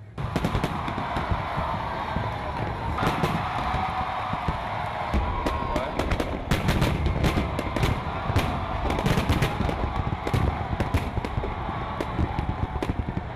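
Rapid volleys of New Year's fireworks launched from barges on a lagoon, bursting and crackling, sharp bangs in dense irregular clusters over a rumbling crowd-like background.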